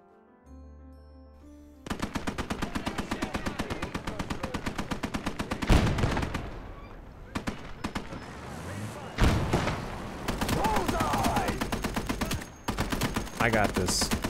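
Rapid sustained bursts of MG34 machine gun fire in the World War II video game Gates of Hell, several long strings of evenly spaced shots broken by louder explosions and short pauses.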